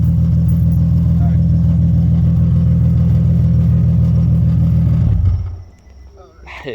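An Infiniti G37 sedan with an ISR full exhaust drones deeply, loudly and close at steady high revs for about five seconds, then drops away to a quiet idle.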